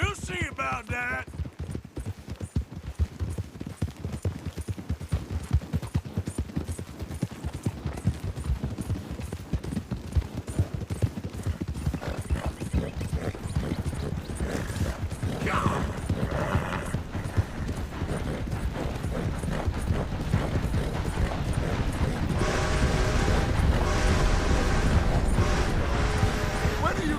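A horse gallops in Red Dead Redemption 2, its rapid hoofbeats pounding steadily and growing louder over nearly half a minute as a race gets underway, with brief speech near the start.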